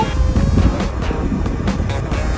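Steady broadband air from a Kia Carnival's air conditioner rushes without pause, a low, even whoosh close by with no voices.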